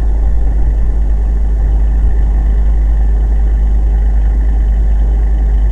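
A 1981 Toyota Celica with a carbureted engine idles after a cold start, a loud, steady, low rumble that runs evenly throughout with no talking.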